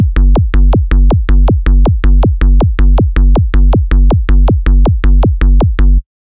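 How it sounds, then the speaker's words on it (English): Donk bass pattern from an Ableton Donk Bass Generator rack: loud, punchy bouncing bass hits repeating steadily at a quick even tempo, about twenty notes, then stopping abruptly. "So the next rack we're going to talk about is this Donk Bass Generator rack."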